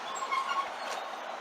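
A British Rail Class 156 diesel unit from Peterborough stands at a station platform, heard as a soft, steady mechanical hum with a faint high squeal near the start, moderately distant.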